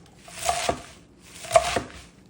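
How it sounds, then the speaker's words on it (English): A kitchen knife chops broccoli rabe into half-inch pieces on a cutting board, two crisp close strokes about a second apart with no talking. "I'm just gonna cut the first inch, the bottom inch of it off, toss that to the trash, and then I'm gonna cut this in about 1/2 inch pieces"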